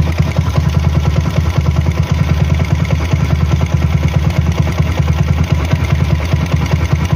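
A Rusi 200 SSV motorcycle engine idles with a freshly installed Keihin 32mm flat-slide carburetor, giving a steady, close, loud low-pitched putter with an even rhythm throughout and no talking.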